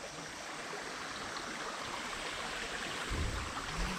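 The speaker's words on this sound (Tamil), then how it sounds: "இங்கே வந்து பார்த்தா இங்கே ஒரு குட்டி ஃபால்ஸ் அப்படியே போய்கிட்டு இருக்கு கீழே வரைக்கும்." Continuous broadband rush of a small waterfall stream in the Burgur hills near Eratti waterfalls, steady and moderately close, with a slight surge of low rumble near the end and no talking.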